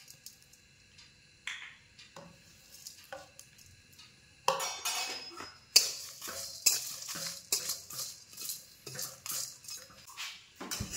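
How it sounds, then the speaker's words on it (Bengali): Whole spices such as coriander, carom, cumin, dried red chillies, bay leaf, poppy seeds and fennel are dry roasted in a dry pan, stirred with a metal utensil in irregular scraping strokes that grow busier and louder partway through. "এইটা আমি একটু শুকনো খোলায় হালকা মতো ড্রাই রোস্ট করে নেব।"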